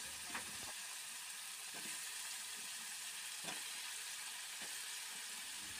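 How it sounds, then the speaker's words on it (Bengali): Tomato and potato sautéing in a pan for a Bengali katla fish curry, giving a continuous hissing sizzle with a few faint scraping stirs spaced through it. "টমেটোটাকে খুব ভালোভাবে দেখুন কি সুন্দরভাবে কষিয়েও নিচ্ছি"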